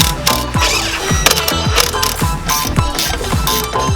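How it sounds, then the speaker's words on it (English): A ratchet tightens nuts on the U-bolts of a Polaris Sportsman 570 ATV battery relocation mount. It makes rapid, loud, close clicking strokes in a steady back-and-forth rhythm. "you can now tighten the mount down."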